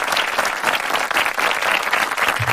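A short burst of steady, dense applause from a group of people clapping, loud and continuous throughout with no talk over it.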